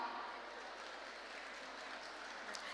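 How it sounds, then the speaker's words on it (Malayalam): An audience at a cultural program gives faint, distant, steady applause, a soft wash of clapping that lasts the whole moment without speech. "നല്ലൊരു കയ്യടി എല്ലാവർക്കും കൊടുക്കാമോ?"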